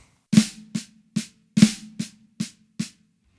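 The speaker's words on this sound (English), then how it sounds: "It's flam, right, left, flam, right, left, left." A snare drum plays a seven-note flam, right, left, flam, right, left, left pattern in two clusters, each opening with a heavier accented flam followed by lighter single strokes, crisp and close.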